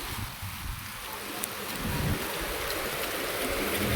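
Heavy rain pours steadily outdoors, a dense, continuous hiss of drops hitting the ground that swells slightly louder midway and continues without a pause.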